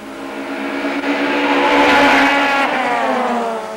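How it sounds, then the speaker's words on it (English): Touring cars race closely through the curves at Kyalami, engines roaring loud and steady with rising and falling pitch as the pack passes nearby. "Desperately close racing between Aberdeen, Wilkin and Moss through the Penzol curves and up the hill towards Nashua."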